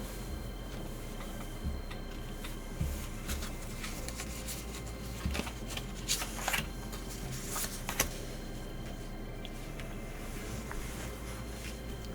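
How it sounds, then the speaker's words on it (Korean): Tarot cards being turned over during a reading: soft, faint clicks and papery rustles scattered across a quiet background, with no talking. "1번 카드를 선택하신 분들 카드 오픈하겠습니다."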